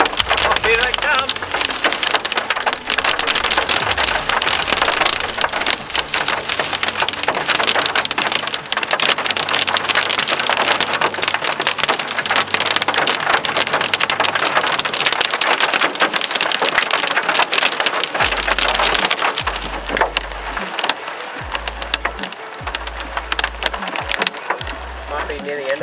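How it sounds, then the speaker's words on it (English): A heavy hailstorm hammers down as a loud, dense, continuous clatter on surfaces, with low thunder-like thumps near the end and a voice speaking now and then. "This is a big hailstorm."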